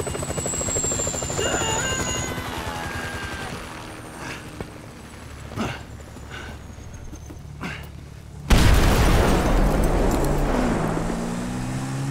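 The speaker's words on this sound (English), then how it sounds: "Can you hear that? Chopper, incoming." A helicopter approaches in Grand Theft Auto V. Rhythmic rotor chop comes through under engine and road noise, with scattered thumps, then swells into a loud, close roar in the final seconds.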